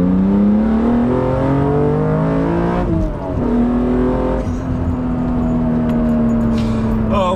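BMW Z4 M Coupe engine pulling hard on a fast drive, a loud rising rev climbing through a gear, a brief dip at the shift, then a steady strong drone with road noise heard from inside the cabin.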